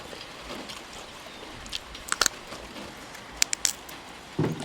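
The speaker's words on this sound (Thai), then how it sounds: "ได้ยินเสียงฝนบ่ครับ" Rain falling outdoors makes a low continuous wash, broken by scattered sharp pattering taps and small splashes that come in brief bursts.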